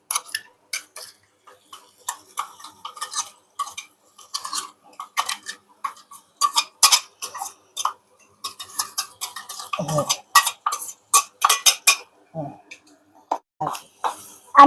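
Ground spice paste being stirred into hot oil in a pan for dry-fried liver, heard as a run of sharp, irregular close clicks and scrapes of a spoon against metal, with quiet gaps between them.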